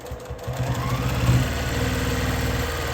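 A sewing machine runs steadily while back-stitching and then sewing straight across a boxy bag, a close, continuous mechanical hum with a rapid rhythmic needle pulse from start to finish.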